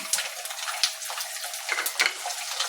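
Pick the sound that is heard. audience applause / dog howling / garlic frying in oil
garlic frying in oil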